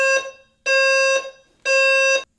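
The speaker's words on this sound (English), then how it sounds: "the fire alarm is going off" A fire alarm sounds in three loud, steady electronic blasts, each about half a second long, separated by short silent gaps, with no talking.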